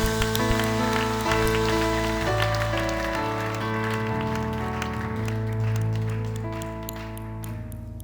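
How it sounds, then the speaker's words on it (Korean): Congregation clapping during a Friday night church worship service, the patter of many hands blending with sustained organ or keyboard chords that ring out and fade over several seconds. "더 큰 박수로 한번 돌리겠습니다"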